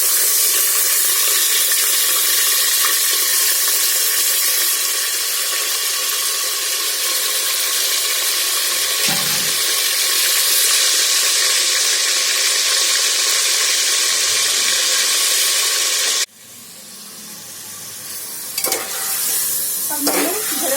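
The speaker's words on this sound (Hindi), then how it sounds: "अब मैंने गरम तेल में चिकन डाल दिया है और इसे थोड़ी देर भूनूंगी।" Marinated chicken coated in yogurt, salt and spices sizzles steadily in hot oil inside a pressure cooker, a loud continuous frying hiss with occasional stirring, which drops off sharply near the end before rising again.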